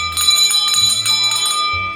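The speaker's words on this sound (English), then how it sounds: "someone rings the bell, that's who you have to buy around for." A bar bell rings out loud and bright, struck several times in quick succession, its metallic tone ringing on between the strikes.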